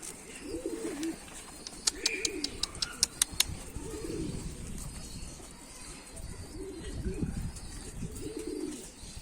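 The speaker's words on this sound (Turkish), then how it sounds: "Yok bizim kuşmuş." A pigeon coos in low, repeated rolling phrases at close range, mixed with a few sharp clicks and faint chirps in the background.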